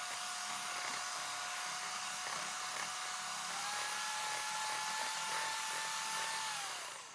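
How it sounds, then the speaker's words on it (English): Electric hand mixer creaming butter, egg and sugar for a poppyseed cake, a steady high whine that holds one pitch, steps up partway through, then spins down at the end. "Okay, found another mixer."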